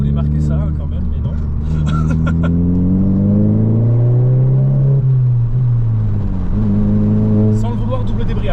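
A VW Scirocco R 265 hp engine revs up and drops back as it shifts gear with a double declutch, a close, steady drone whose pitch rises and dips smoothly, with a voice talking over it.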